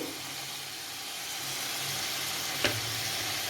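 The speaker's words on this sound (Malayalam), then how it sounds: "എണ്ണയും ഒഴിച്ചു ഇനി നമുക്ക് ഇതൊന്ന് പതിയെ ഇളക്കിയിട്ട്" Vegetable stew sizzles steadily in a pan with coconut oil while being slowly stirred, a constant close hiss with one brief clink partway through and no voices.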